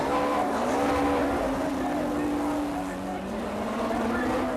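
British Touring Car Championship cars from 1993, 22 starters, roar away at the start of a race on a 2.8-mile circuit, a dense, loud, continuous engine wail with tyre noise beneath an excited commentator's voice.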